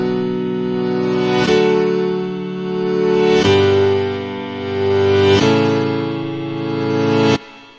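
A reversed piano sample in FL Studio swells upward repeatedly, each rising chord cutting off sharply before the next begins, four loud sustained swells in a steady rhythm with an abrupt end.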